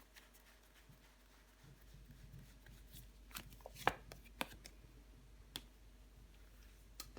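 Tarot cards are laid out and covered on a table, giving faint, sparse taps, flicks and soft card slaps scattered over a quiet background, a few sharper clicks standing out.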